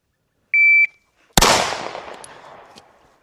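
A Girsan CMXX pistol fires a single loud, close shot from the low ready position, its report ringing and decaying over about two seconds, preceded by a short electronic shot-timer beep.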